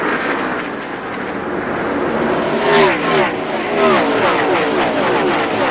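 NASCAR stock cars race past at the 2002 UAW GM Quality 500, a loud blend of engines rising and falling as the cars go by, with a race commentator talking over the noise.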